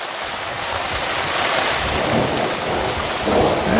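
Heavy rain pours steadily during a hailstorm and thunderstorm over the valley near Mittersill, Austria, with deep rolling thunder rumbling underneath, the downpour loud and continuous throughout.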